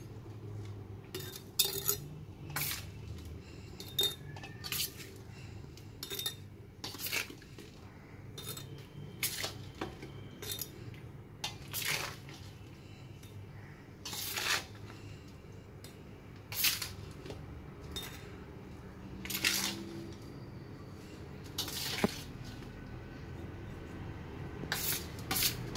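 A spoon scrapes and clinks against a glass jar as homemade lemon pickle is filled in: a quiet kitchen with scattered sharp metallic taps and chinks at irregular intervals over soft background hum.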